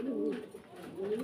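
Pigeons of a satin breed in a loft give a low, soft coo close by, a brief throaty call rising and falling twice within a second.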